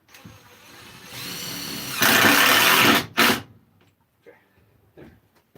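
A power drill drives screws while a small tool table is being assembled, with short stuttering bursts, a longer loud run and a sharp second burst, followed by faint scattered knocks.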